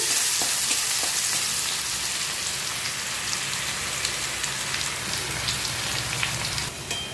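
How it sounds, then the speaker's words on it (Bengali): Crushed garlic fries in mustard oil with a dried red chilli, making a bright, crackling sizzle like light rain, steady and near, with a few faint stirring taps. "রসুনটা একটু লাল লাল করে ভেজে নিচ্ছি"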